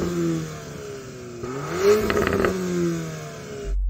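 A Volkswagen Golf R engine revs at a drag-race line-up, climbing from a steady hum into a sharp rising blip with crackling pops, then settling back down before cutting off.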